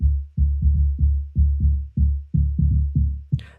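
Layered progressive house synth bass with the low end cut, played alone as a punchy rhythmic pattern of short, decaying plucked notes in a syncopated groove, ending with a brief burst of higher noise.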